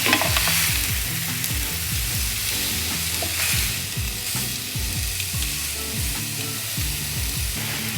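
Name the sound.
fish frying in saucepan with fry light spray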